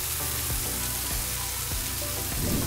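Steak for steak Diane sears in a hot pan, a dense continuous close sizzle and crackle with faint low thumps and no talking.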